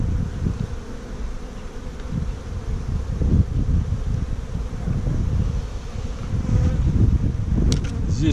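Honeybees buzz around an open beehive frame with brood and eggs, a continuous low droning hum close to the microphone, mixed with light wind and rustling, occasional faint outdoor noise.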